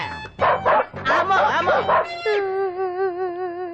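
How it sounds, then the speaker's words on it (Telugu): Dogs bark in a quick burst of several yelps and barks, then one draws out into a long wavering howl, close and loud. "అటు చూడు కుక్కలు"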